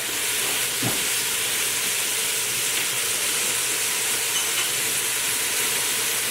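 Ground meat sizzles steadily in a hot pan with the liquid cooking off, producing a continuous, even hiss from start to finish with one brief scrape of stirring near the beginning.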